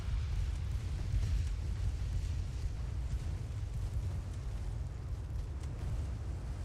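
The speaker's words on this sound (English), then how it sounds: "Of course you got hit by a torpedo." A steady, heavy low rumble of an explosion after a torpedo hit in the naval game Ultimate Admiral: Dreadnoughts, a sustained booming roar with no voices over it.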